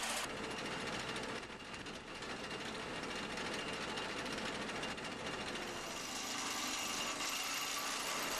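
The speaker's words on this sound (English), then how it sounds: "Smaller vibrators using the power of hydraulic excavators are also quite popular. Here, an application showing the driving of H profiles with a" Excavator-mounted hydraulic 7PHF4 vibrator driving steel H-profile piles into the ground, a continuous dense buzzing rattle that holds steady throughout and sounds fairly distant.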